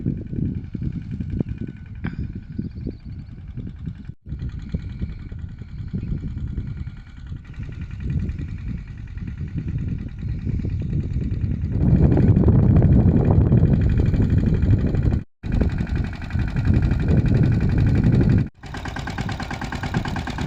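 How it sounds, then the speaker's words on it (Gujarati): A tractor engine idles nearby, a steady low mechanical rumble that grows louder partway through with brief dropouts. "અત્યારે જયપાલ ટ્રેક્ટર રાખી રહ્યો છે"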